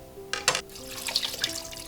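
Cold tap water gushes into a pot of beef for blanching, a brief close splash and rushing pour lasting under two seconds.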